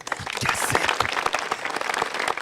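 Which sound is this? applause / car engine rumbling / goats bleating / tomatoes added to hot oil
applause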